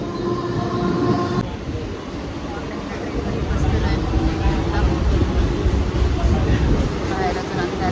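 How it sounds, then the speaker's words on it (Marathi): A Vande Bharat train rumbles and clatters close by as it pulls into a station, loud and sustained, with people talking under the noise. "सकाळी आलेली वंदे भारत ट्रेन स्टेशनचा सकाळीचा नजारा"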